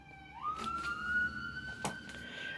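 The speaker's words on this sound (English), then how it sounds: "And an ambulance is bothering me" An ambulance siren wails outside, its rising tone sweeping up and holding steady at moderate distance throughout.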